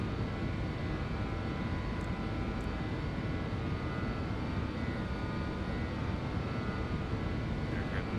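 A simulated BAe146 jet rolling down the runway on takeoff in X-Plane 12, a steady loud broadband engine roar holding constant throughout, with a faint background voice.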